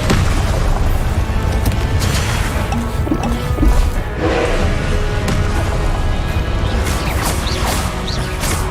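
Expelliarmus and Confringo spells fired in Hogwarts Legacy combat, a loud, continuous barrage of crashing, whacking impacts and booming bursts layered over a busy game soundscape.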